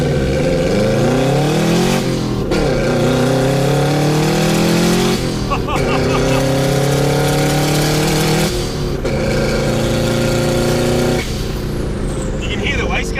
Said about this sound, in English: You can hear the wastegate open